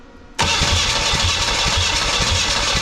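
A Chevy four-cylinder engine cranks briefly and catches, settling into a loud, steady rumbling run with a pulsing low-end beat, close up and alone.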